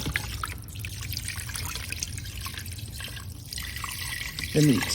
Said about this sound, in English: I'm going to add water to just cover